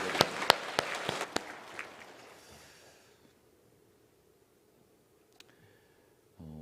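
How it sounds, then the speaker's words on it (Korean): Brief applause of thanks from a congregation at an early-morning church prayer service, a handful of sharp, spaced claps that thin out after about three seconds into near silence. "감사의 박수"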